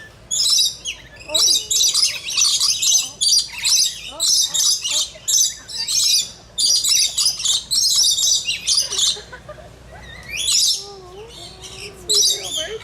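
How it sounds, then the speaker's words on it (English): Several small birds at a wild animal park chirp and squawk in rapid, bright bursts close by, with brief pauses between flurries, as if squabbling, and a voice speaks faintly now and then. "Sweet little birds you are."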